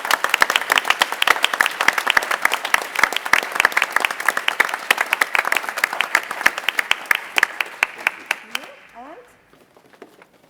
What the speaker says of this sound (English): So a big applause to Eduardo